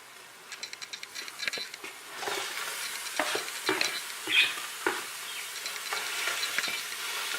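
Ground beef frying in a pan with cooked-down onions, a bright steady sizzle broken by scraping and stirring clicks from a spatula, close and fairly loud, with no talking.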